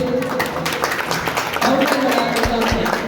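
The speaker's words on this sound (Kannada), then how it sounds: "ಜೋರಾದ ಚಪ್ಪಾಳೆಯಲ್ಲಿ" Audience applause at a felicitation ceremony: a short burst of crowd clapping with a voice talking over it throughout.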